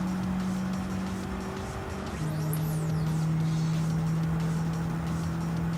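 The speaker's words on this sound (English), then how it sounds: "Understeer is where the car is sliding when you're trying to turn." Race car engine droning steadily at close range while the car slides wide with understeer on a wet high-speed circuit in Gran Turismo 7, with faint tire noise over a continuous hum and no voices.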